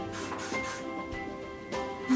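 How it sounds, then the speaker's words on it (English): Several short hissing bursts of aerosol hair spray, close by, in quick succession with brief gaps between them, sprayed while styling loose beachy waves. "just spray it. Just kind of lift and spray."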